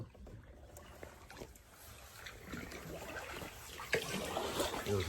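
A canoe glides along Winchester Creek, a cold tidal estuary heading toward Charleston Harbor, with close, steady paddle splashes and trickling water that swell louder toward the end.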